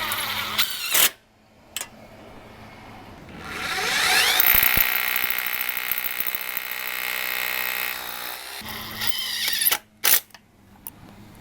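Close and fairly loud, a power tool drives screws into the track of an outside-mount retractable screen with one sustained whirring run of about four seconds, and there are clicks and handling knocks before and after it.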